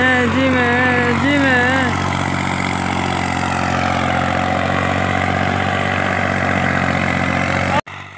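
A Massey Ferguson 240 diesel tractor engine runs at a steady, loud, close idle with a voice briefly over it early on, then cuts off abruptly near the end.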